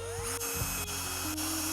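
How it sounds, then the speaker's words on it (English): A drill bores holes in a metal car dome light fixture between T-tops, its motor whining steadily with pitch shifts and brief catches as the bit bites, close and alone. "So I'm about to drill some holes"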